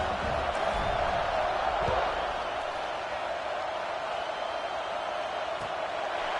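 A football stadium crowd at a Tennessee versus Oregon game roars continuously, a dense wash of distant cheering that stays loud and steady, with a few faint thumps early on.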